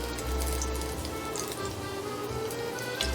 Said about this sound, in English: Looks like it's sizzling again.